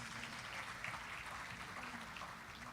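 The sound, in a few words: audience applause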